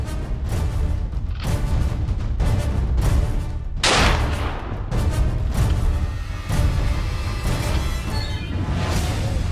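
Hunting rifle shot fired at a jumpy wild boar during an autumn driven hunt: one loud, sharp report stands out midway through a continuous noisy outdoor background, with fainter thumps around it.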